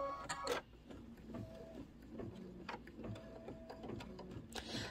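A home embroidery machine stitches a Kimberbell Peppermint Avenue bench buddy pillow design, giving a steady close-up mechanical whir with rapid ticking needle strokes and a few brief clicks from the running mechanism.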